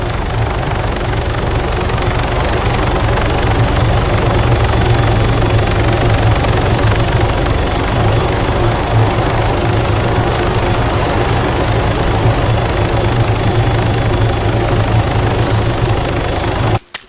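In the ARMA 3 game, a helicopter lands nearby with a loud, steady rotor thump and heavy engine roar that holds throughout, then cuts off abruptly at the end.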